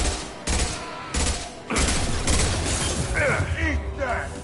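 Bursts of gunfire in the video game Mass Effect Legendary Edition, several loud volleys with thuds and mechanical clatter, with some voice underneath.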